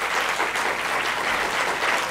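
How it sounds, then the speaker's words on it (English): Sustained applause from a seated audience at a public policy school anniversary conference, a dense, steady wash of many hands clapping at moderate loudness with no break. "So a special round of applause for Rahul."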